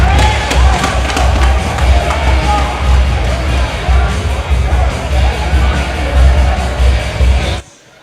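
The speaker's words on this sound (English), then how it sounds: "The crowd not liking that call" Hockey arena crowd at a boys' high school sectional championship reacting to a referee's call, a sustained loud roar of voices and yells with thumps, cutting off abruptly near the end.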